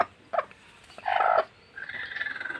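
A desi hen sitting on eggs gives a few short clucks followed by a longer, warbling vocalization, close by in an otherwise quiet setting.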